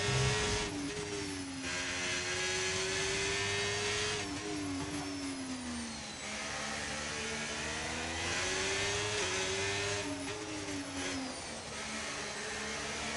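Ferrari race car engine screaming at high revs during a race at Zandvoort in a racing video game, with rising and falling pitch through gear changes and passing cars, loud and steady, no talk.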